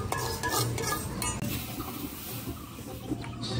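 Black cumin seeds tipped into a dry pan and roasted without oil for a Bangladeshi bhorta, a steady close scraping stir with light metallic clinks and a faint sizzle, no voices.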